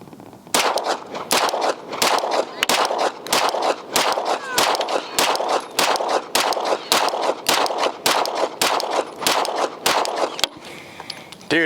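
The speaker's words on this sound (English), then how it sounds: "So I'm gonna have everybody shoot it and see how this holds up with the cycling of the slide and the recoil." Handgun shots from an FN 509T pistol fitted with a Holosun SCRS optic, fired in a long steady string of loud, sharp reports about every half second, spread across the whole stretch with brief gaps.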